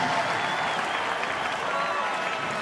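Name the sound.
Waldo Stadium football crowd cheering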